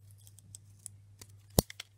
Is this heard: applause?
no